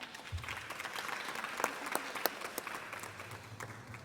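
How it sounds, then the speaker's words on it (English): Applause from an audience at a women and veteran owned business summit at Morgan State University, a moderate, steady patter of clapping with a few sharper individual claps standing out. "Miss Lee Platt, give her a round of applause as she comes up."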